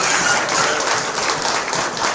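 An animal show crowd gives sustained, even applause for the intermediate exhibitors, a steady wash of many hands clapping without pauses.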